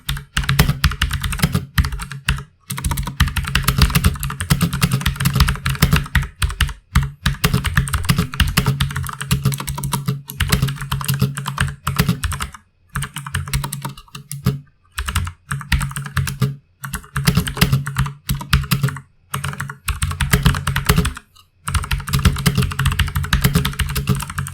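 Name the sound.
mechanical keyboard typing, clicky blue switches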